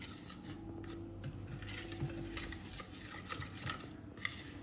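Soufflé mixture with sugar and vanilla is stirred in a bowl, a quiet, continuous scraping and swishing with small utensil clicks and no speech.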